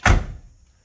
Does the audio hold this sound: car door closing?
yes